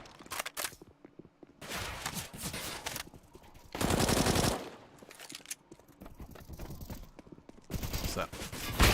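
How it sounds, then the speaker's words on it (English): Burst gunfire in a Counter-Strike style competitive match, heard as several loud blocks of rapid automatic shots separated by quieter gaps, with commentators' voices in between. "Well, that's burst fire."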